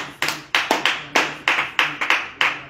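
A church congregation at morning prayer claps in a quick, uneven rhythm of about a dozen sharp claps, loud and close, with no talking.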